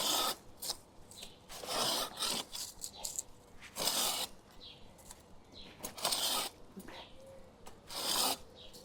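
Someone hand-saws an old, well-rooted butterfly bush stem in a garden, with uneven raspy strokes coming in bursts with short pauses, close and fairly loud.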